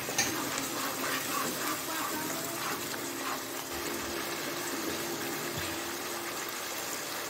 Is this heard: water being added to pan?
yes